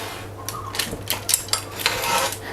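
Boiled pork knuckle for a beer-braised dish is shifted onto a baking tray, bringing several short metallic clinks and knocks from the tray and utensils at uneven intervals over a faint background hum.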